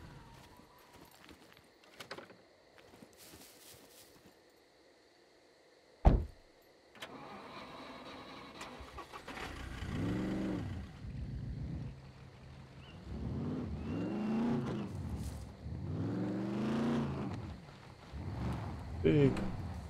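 A car engine in the video game Scum starts with a sharp thump, then revs and drives in repeated rising and falling surges that grow louder toward the end, under occasional faint talk.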